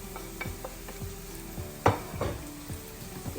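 Clam meat with garam masala, pepper, coriander and turmeric being stirred in a frying pan, with a soft steady sizzle under repeated scraping and clinking strokes of the spoon, one sharper clack standing out midway.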